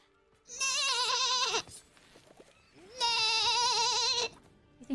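A video game character imitates a sheep, giving two drawn-out, wavering bleats separated by a short pause, close and clear.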